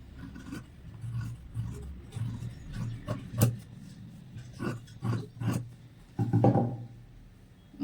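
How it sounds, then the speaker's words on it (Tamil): Scissors cut through blouse fabric laid out for tailoring, with a series of uneven rasping snips and dragging cloth sounds, some louder bursts near the end, close and without speech. "ஃபர்ஸ்ட் இதை வந்து நம்ம கட் பண்ணிக்கலாம்."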